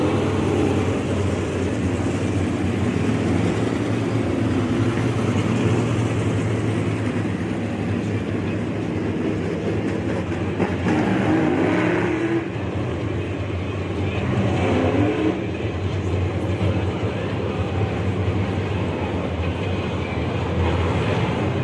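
Ten USRA late model race cars running a heat race at a dirt speedway, a dense continuous roar of engines filling the air with steady rumble and occasional swells as the pack passes, no speech over it.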